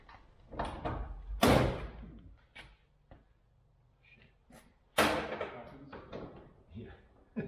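A stiff, rusty door on a 1947-55 GMC Chevy truck cab is worked loose and lifted off, giving a few loud metallic clunks and scrapes between quieter pauses, with people talking nearby.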